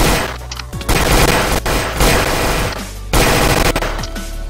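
P90 submachine gun from a video game gun mod firing in long rapid automatic bursts broken by short pauses, loud and close, with no talk.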